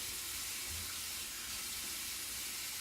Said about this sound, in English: Okay, add some water.